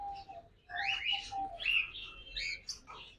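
Gouldian finches and Java sparrows chirp together inside a bird shop, a close, busy run of bright, overlapping tweets and short calls with little pause between them.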